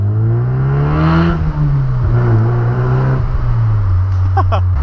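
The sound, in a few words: Mazda MX5 convertible engine while driving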